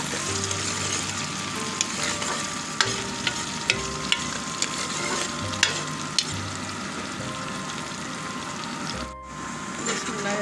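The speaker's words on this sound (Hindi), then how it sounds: "ये प्याज फ्राई हो गया" Onions fry in a pan for a beef and green peas curry, giving a loud, steady sizzle with occasional stirring clinks and scrapes and a brief dip near the end.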